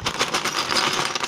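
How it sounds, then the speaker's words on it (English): Loose Lego pieces pour out of a bag onto a surface in one dense, clattering rush of plastic rattle lasting just over a second, fairly close and without any talk. "That's just all the Lego dumping out."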